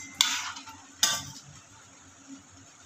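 A utensil scrapes and clanks twice against a pot of frozen mixed vegetables being stirred, two sharp close hits about a second apart over a quiet low background.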